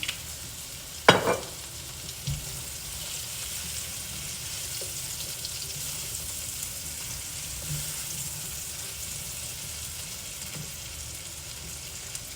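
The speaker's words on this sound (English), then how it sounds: "Now I'm going to add another tablespoon of butter. And a little bit more olive oil." Butter and olive oil sizzle steadily in a skillet, with a sharp clatter near the start and a constant hiss continuing alone throughout.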